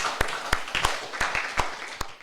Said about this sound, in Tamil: நீங்களும் கைத்தட்ட வேண்டும் என்று அன்போடு நான் கேட்டுக்கொள்கிறேன்